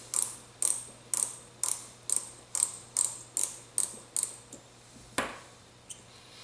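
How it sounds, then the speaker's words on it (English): A surgical bone tap is turned by hand into an implant model, giving about ten crisp, evenly spaced ratcheting clicks close up, then a pause and one sharper click with a faint tap after. "the tap has to be rotated in and then rotated back out of the osteotomy"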